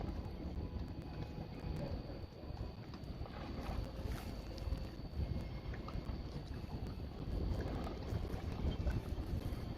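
Outdoor wind buffets the microphone at sunset, a continuous broad rushing roar that swells and eases over several seconds, with no clear voices.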